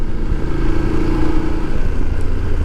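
A motorcycle riding on a road trip through tunnels, its engine a steady, loud, close rumble with a constant drone and rushing wind noise all the way through, and no talking.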